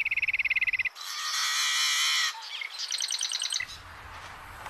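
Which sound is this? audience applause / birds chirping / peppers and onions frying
birds chirping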